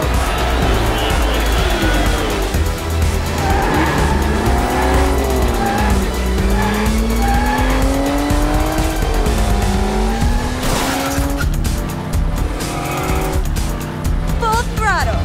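Cartoon race cars speed past with whining engines and long squealing tire slides in a close race, loud and continuous, mixed with music and a voice talking over it.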